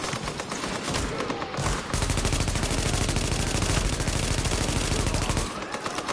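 Rapid gunfire from an enemy shotgunner in a tactical shooter game, a dense continuous burst of blasts running for several seconds, loud and close, with no talk.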